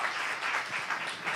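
A church congregation at a Korean Saturday worship service claps together, a brief burst of dense applause lasting just over a second.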